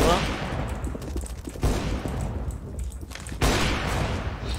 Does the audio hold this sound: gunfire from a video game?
yes